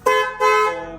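Loud horn fitted on a superbike, two close blasts in quick succession, the second longer and trailing off, with no talking over it.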